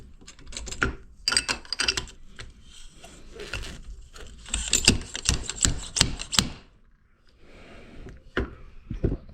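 A motorcycle fork bushing, on a Honda CRF250L or CRF300L spring-side fork, is driven in with a seal driver in repeated sharp metallic taps, clustered in bursts with the tone shifting as it bottoms out.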